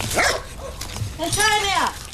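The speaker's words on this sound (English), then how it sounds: "Hey, this is my refugee dog." A mangy dog rescued from a refugee camp barks and yips in short bursts, close to the microphone, with a voice speaking over part of it.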